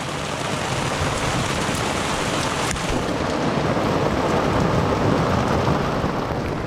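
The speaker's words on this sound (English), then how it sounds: "water jugs will fill up very quickly when it's raining this hard." Heavy rain pours steadily onto a sailboat at anchor, a dense, loud, unbroken hiss with no voices.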